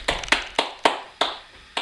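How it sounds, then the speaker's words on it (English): Slow, sparse hand claps, about six sharp separate claps spaced unevenly, close and fairly loud with quiet gaps between them, as if from one or two people. "So give it a round of applause for the Fuzz, who doesn't hate a stout."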